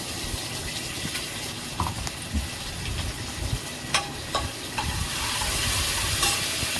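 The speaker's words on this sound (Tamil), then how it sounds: "இஞ்சி பூண்டு பேஸ்ட் ஒரு 2-3 ஸ்பூன் போட்டு கறி நல்லா அலசி சிக்கன்லேயே போட்டு நல்லா ஃப்ரை பண்ண வேண்டியது" Chicken frying with ginger garlic paste and curry leaves, a continuous wet sizzle with scattered clinks and scrapes of a spoon stirring throughout, and no voices.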